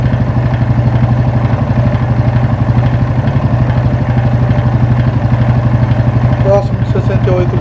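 A Yamaha Fazer 250 motorcycle engine idles close by with a steady, rapid rhythmic clatter and loud mechanical ticking, running continuously throughout with faint knocks near the end.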